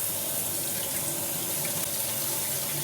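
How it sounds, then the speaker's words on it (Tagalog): Plain tap water pouring steadily into a container while making watermelon milk tea, a continuous close rushing splash with no voices. "Kinakailangan natin guys buhusan ng normal na tubig para hindi magkadikit-dikit."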